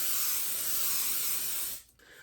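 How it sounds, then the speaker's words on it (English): Cooking spray hisses from an aerosol can into a dirty, unwashed cake pan in one steady close burst lasting nearly two seconds, then cuts off abruptly. "I'm just gonna spray over the crap that's in here and hope that that's fine."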